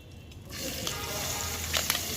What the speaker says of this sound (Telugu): ఇప్పుడు ఇందులోని ఉల్లిపాయలు వేసుకోవాలి